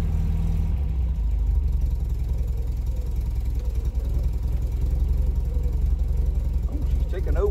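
An MGB car engine idles steadily without choke after a service, a low, even rumble throughout, close by, with no other prominent sounds.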